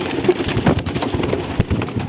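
Soft pigeon cooing and rustling wings close by, with a few flutters and scattered movement sounds over a couple of seconds.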